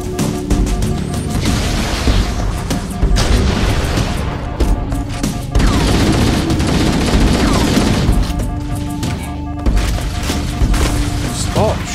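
Rapid bursts of gunfire and booming explosions in a Halo: Combat Evolved Anniversary multiplayer match, loud and dense with repeated blasts and crashes stacked across the stretch, with a voice talking in between.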